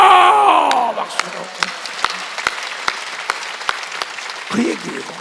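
A church congregation during a Sunday worship service, voices ringing out loudly before giving way to sharp, evenly spaced rhythmic claps, with a brief vocal swell near the end.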